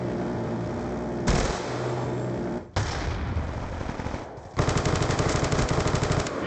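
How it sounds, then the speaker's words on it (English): The Death Machine minigun in a Call of Duty match fires in long, dense, loud bursts of rapid automatic fire, with brief gaps between the streams and the last burst holding steady to the end. "Death machine spinning up."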